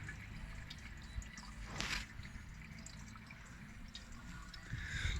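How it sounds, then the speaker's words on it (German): Water trickles and drips steadily into a backyard pool skimmer, heading toward the pump and filter as the pool is restarted after winter; a low, continuous watery rush with a brief louder splash near the middle, no voices. "läuft das Wasser praktisch erstmalig Richtung Pumpe und dann in den Filterbehälter"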